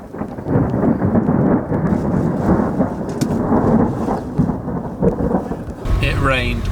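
Heavy rain pours steadily in the wet season in Peru's Andes, with thunder rumbling close and loud under the downpour throughout.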